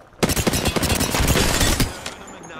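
In Apex Legends, a rapid burst of automatic gunfire rattles loudly for about two seconds, with several shots firing in quick succession before cutting off.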